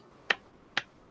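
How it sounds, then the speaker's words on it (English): Two isolated sharp claps land about half a second apart, crisp and close against near silence, making a deliberate slow clap. "That's a slow clap."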